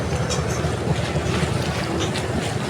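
A passenger launch bound for Barisal departs on the Buriganga river, giving a steady, loud rumble of engine and churning water mixed with wind noise, continuous throughout with no talking.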